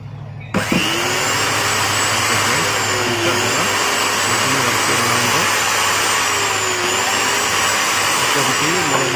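A repaired Bosch AG7 angle grinder switches on for a test run after a brief quiet moment, then holds a loud, steady, high motor whine close by.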